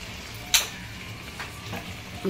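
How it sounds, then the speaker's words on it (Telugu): Ridge gourd and onion curry frying in a pan, a faint steady sizzle throughout, broken by one sharp clink of a spoon or lid near the start. "కొంచెం మూత పెట్టేసి దగ్గరికి మనం ఫ్రై చేసుకోవడమే"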